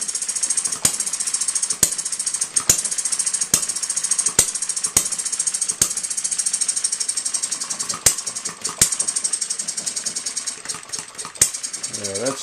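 A small hit-and-miss model engine runs slowly at under about 500 RPM, sharp periodic firing pops spaced about a second apart over a continuous mechanical rattle and whir, close-up.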